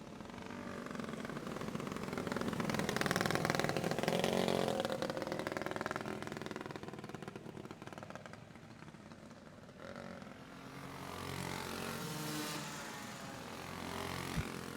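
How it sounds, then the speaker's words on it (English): Go-kart engines racing on a track, a mix of four-stroke big block and small block karts with a YZ250 two-stroke, rising and falling as karts pass, a loud buzzing drone that swells, fades and returns. "I got a couple of 4-strokes up front, a big block, a small block, a YZ250 2-stroke in third"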